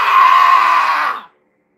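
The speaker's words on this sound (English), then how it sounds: "See how loud you can scream." A person screams as loud as possible in one sustained, strained shriek lasting just over a second, then cuts off abruptly to silence.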